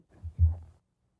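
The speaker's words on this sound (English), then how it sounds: "Sounds like a heartbeat." A deep, muffled double thump, like a heartbeat, sounds once inside a supposedly haunted house. The soft first beat is followed quickly by a stronger second one, then silence.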